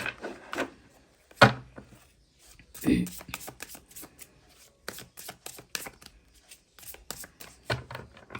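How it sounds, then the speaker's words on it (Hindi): Tarot cards being shuffled and drawn from a deck: a sharp riffle burst, then a run of quick crisp card snaps and flicks in irregular bursts, close up, with someone speaking Hindi in between. "सबसे पहले इस डेक से मैं निकालूंगी कुछ कार्ड्स और दूसरे डेक से भी कुछ कार्ड्स निकालूंगी"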